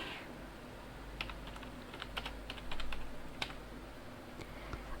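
Computer keyboard typing a slide title in PowerPoint, a scattered run of light, quick key clicks over a low background hum, close and fairly faint.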